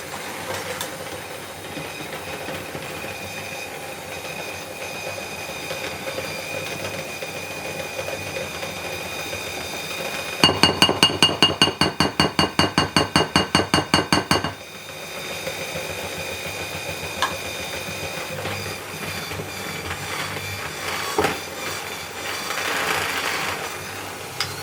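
Gingerbread batter is mixed in a bowl, heard as a quick, rhythmic run of clicking and knocking that lasts about four seconds over a quiet, steady room hum.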